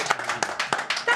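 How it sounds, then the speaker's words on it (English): A small audience at a live football broadcast claps in sparse, uneven bursts, fairly quiet, with individual hand claps distinguishable and speech mixed in. "I think that's worth a round of applause."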